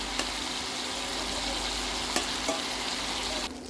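A rice-stuffed chicken fries on the stovetop in a reducing sauce, giving a constant close bubbling sizzle that runs evenly and then drops slightly in level just before the end.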